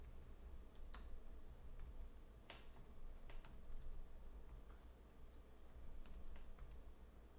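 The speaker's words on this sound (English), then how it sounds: "I'll type it right here" Keys clack in scattered quick bursts as someone types on a computer keyboard, faint against a low background hum, with no speech.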